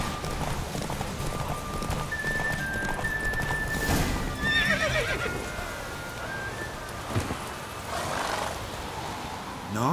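A horse gallops with rapid hoofbeats and neighs during a race in The Witcher 3: Wild Hunt, the hooves drumming steadily beneath shifting game ambience and occasional whinnies, with no voices.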